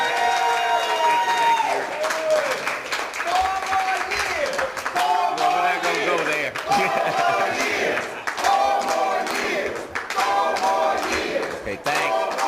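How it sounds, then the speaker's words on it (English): A crowd at a campaign kickoff in Jackson, Mississippi applauds and cheers for the mayor, with loud shouts and whoops over steady clapping throughout. "give a big warm round of applause for our mayor"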